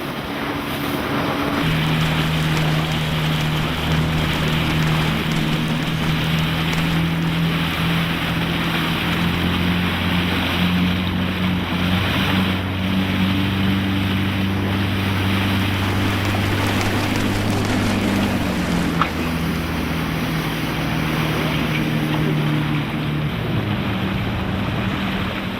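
A boat at sea off Chukotka in rough water and fog, with a steady engine drone and shifting hum under constant wind and wash of waves, continuous and close, no voices.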